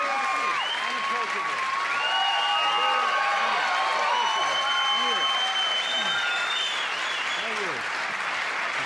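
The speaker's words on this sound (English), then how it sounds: "Crowd goes crazy." Loud, sustained applause and cheering from a TV studio audience on the Letterman late-night talk show as Tom Hanks walks out, with whoops and shouts over steady clapping throughout.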